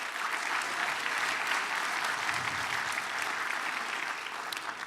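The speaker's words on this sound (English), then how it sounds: "Let's give them an applause." Steady applause from an audience at a Portland public civic event on city government fills the space, dense and sustained, then thinning slightly toward the end.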